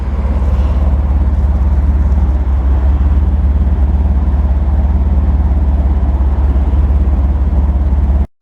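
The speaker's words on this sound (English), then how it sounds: "It's a WOC performance exhaust." A BMW 850i V12 engine fitted with a WOC performance exhaust, idling steadily with a deep, constant low rumble heard up close and loud, with no talk, before cutting off abruptly at the end.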